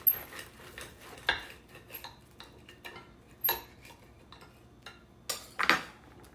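A knife and fork cut a fried green tomato on a plate, making several sharp clinks and scrapes against the dish at irregular intervals, close and clear with quiet gaps between.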